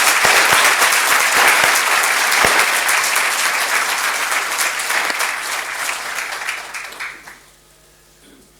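Sustained applause from an audience at a university graduation ceremony in Iceland, loud and dense, continuing for about seven seconds before fading out quickly.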